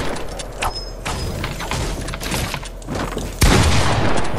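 Rapid gunfire rattles through a Fortnite match, a dense run of close shots with a sharper, louder burst near the end, over the game's background noise.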